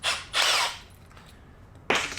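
A power drill bites through sheet metal while an Airstream trailer is torn apart, two loud close bursts of high whining drilling, then a quiet gap before a third burst starts.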